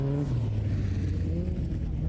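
A BMW M5 drives on a Vantaa ice race track, its engine holding a steady loud drone with a slight pitch shift as it runs past nearby.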